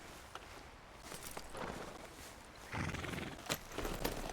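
A horse in the Red Dead Redemption 2 video game whinnies and snorts as hooves clip-clop along at a walking pace, with scattered louder hoof strikes, moderately close over steady game ambience.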